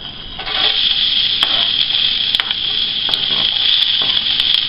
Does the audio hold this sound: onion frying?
yes